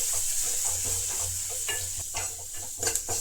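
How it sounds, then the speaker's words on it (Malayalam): Turmeric, chili, coriander and pepper powders sautéing in a hot pan for rasam, a steady close sizzle with intermittent scraping and stirring strokes, no talk. "ഇത് നന്നായിട്ട് നമ്മളിങ്ങനെ വഴറ്റി കൊടുക്കുക, നല്ല കളർ ചേഞ്ച് ആകുന്നിടം വരെ"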